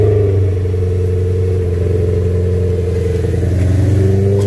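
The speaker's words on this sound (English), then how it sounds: "Cold start sequence, I believe," Cold start of a BMW E92 M3 engine fitted with an ACM muffler mod, a steady, close idle with a deep rumble and even exhaust pulses, rising slightly near the end, with no voices.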